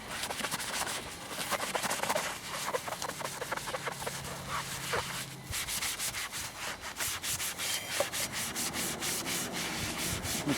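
Rhythmic rubbing and scrubbing of a car wash sponge against a metal lamp post, close and continuous with steady back-and-forth strokes.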